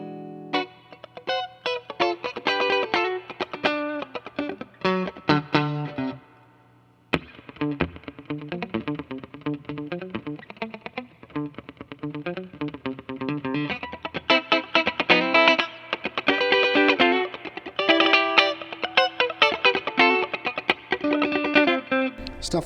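Fender Stratocaster electric guitar strummed in rhythm on the middle pickup, with a dense run of chords and a brief pause around seven seconds, lightly coloured by effects and sounding loud and close.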